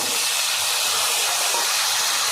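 Cut taro and potato fry in hot oil seasoned with bay leaf and whole cumin, giving a steady, loud, bright sizzling hiss that runs unbroken from start to finish.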